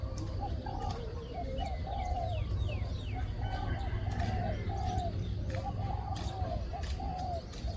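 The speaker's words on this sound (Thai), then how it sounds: "เป็นนกต่อสุดยอดคารมอีกตัวนะครับ" A wild decoy bird calls in a bird-call test outdoors, giving repeated short cooing phrases in a regular rhythm with chirps and faint ambient hiss.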